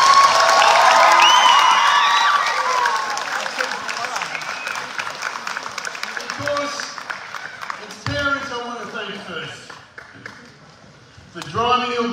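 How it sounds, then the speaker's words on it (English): A crowd of parents applauds and cheers for graduating Year 12 boys at the Granville Boys High School graduation. The dense clapping fades over several seconds before a voice takes over. "Give him a round of applause, please."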